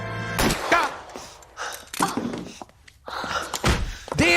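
A punch lands and knocks a woman out in the video game L.A. Noire, giving a dull thunk and thud amid in-game voices, with a few sharp hits spread across the stretch.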